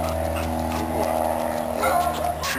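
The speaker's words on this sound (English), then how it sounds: "here's the dog" A dog whimpers and gives small yips over a steady hum of background noise. The sound holds continuously, fairly near, with no clear speech.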